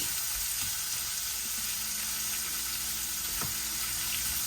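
Zucchini sizzles and fries in a pot, a steady close hiss with faint pops and light crackles throughout, no talking.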